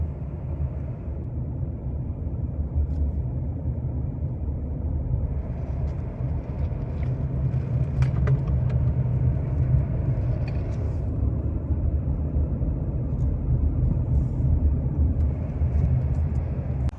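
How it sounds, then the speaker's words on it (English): Steady low road rumble inside a moving car, a constant engine and tyre drone with slight swells, close and unbroken, with no talking. "I'm obviously in a car and I'm driving"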